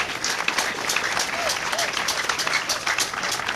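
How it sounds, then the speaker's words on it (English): Audience applause for a union chairman at a gathering: steady, fairly dense hand clapping throughout, with faint voices underneath. "Let's put our hands together for our chairman"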